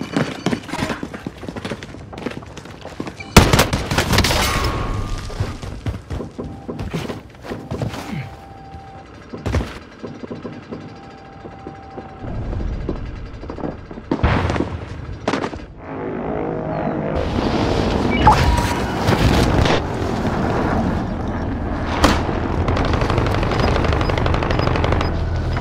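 Gunfire in Call of Duty: Modern Warfare, repeated machine-gun bursts and single loud shots spread through a long stretch of battle noise, with sharp close reports and quieter distant exchanges.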